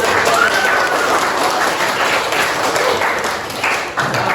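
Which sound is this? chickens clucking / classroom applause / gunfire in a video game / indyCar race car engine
classroom applause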